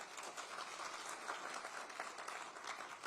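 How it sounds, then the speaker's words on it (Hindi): An audience at a motivational session claps together, a steady even patter of applause heard faintly and at a distance. "How many agree with that? से यस, बजा सकते हो ताली।"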